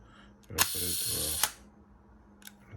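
A Fed 3 film camera being wound and fired: a close, dry ratcheting wind lasting about a second, ending in a sharp shutter snap, followed later by a faint single click.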